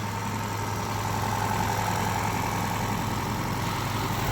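A Japanese import car engine idles steadily after an oil service, a close, even mechanical rumble with a constant low hum and no talking.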